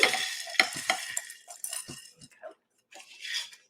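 Rinsed split peas tumble into a cooking pot with a rattling, clinking rush, followed by a few scattered patters and stirring noises that fade to quiet before a last soft burst.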